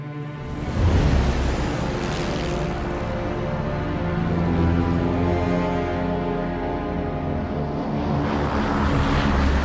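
A propeller airplane flies in and lands, its engine drone loud and steady throughout, with a throbbing, harmonic-rich roar that rises near the start and persists close by, no speech over it.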